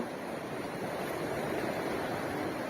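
A river in Ladakh flows past in an even, unbroken rush of broadband noise, heard fairly faint and without voices.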